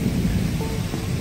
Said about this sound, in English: This is the biggest thunderstorm we ever saw in a while.